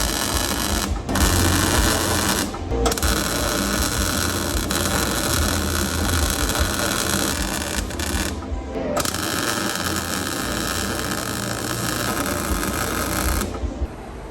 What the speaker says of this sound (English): Let's cut this up, and then let's clear some of this paint off so that we can weld to it